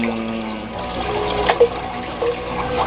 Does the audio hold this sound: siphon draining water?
yes